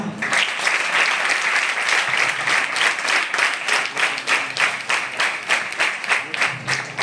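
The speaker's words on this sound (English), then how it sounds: "Let's all welcome her with warm regards of applause" An audience breaks into sustained applause to welcome someone speaker at a space science recognition event, dense clapping steady and loud throughout with no talk over it.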